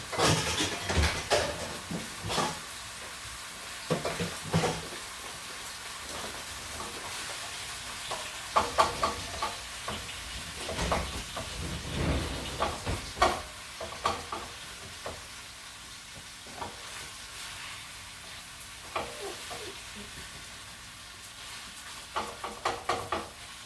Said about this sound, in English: You're just going to brown this beef, flipping it as you need to get it fully cooked.